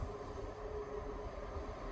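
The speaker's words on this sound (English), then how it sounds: "The train arriving at platform 2 is the 12:58 service to Cowdenbeath." A three-carriage train pulls into the platform at Edinburgh Gateway station, giving a steady, close, continuous low rumble with a faint sustained tone on top and no voices.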